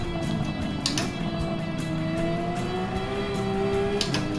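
A Porsche 996 circles the Nordschleife in a racing video game. The engine drones steadily with shifting pitch, and tire noise and short bumps run beneath it as the car downshifts and corners, with no talk.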